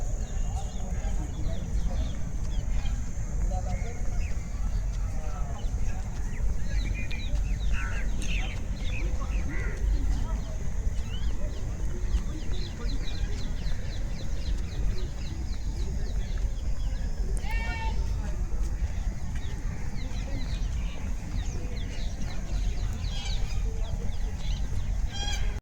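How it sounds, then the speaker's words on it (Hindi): Ducks calling at Rajghat, Delhi, a scattered chorus of quacks and clucking calls at mid distance over a steady outdoor background hum, with faint voices around. "तो ये रही भाई बतखें, क्या बात है।"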